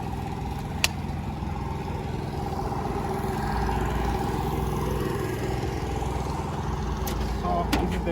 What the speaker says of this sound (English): and now we can start the compressor.